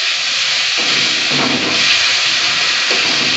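Ginger garlic paste hitting hot oil with turmeric in a Bengali egg and pointed gourd curry, giving a loud, steady, close hiss of sizzling that holds throughout with slight surges.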